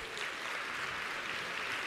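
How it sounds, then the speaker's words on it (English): Audience applause at a speaking event, a steady, even wash of clapping throughout, fairly faint and distant, with no voices over it. "So give them a round of applause."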